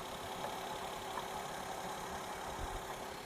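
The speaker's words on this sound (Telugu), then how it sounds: "ఇంజన్ కూడా చాలా సైలెంట్ ఉందండి" A 2012 Maruti WagonR VXi petrol car engine idles with a steady, even low rumble and no revving, heard close and alone throughout.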